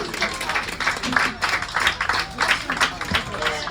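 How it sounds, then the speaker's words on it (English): Passengers on a Donegal water bus boat tour give a round of applause for their guide, with moderate scattered clapping in uneven bursts and voices audible alongside. "you give her a big round of applause as well"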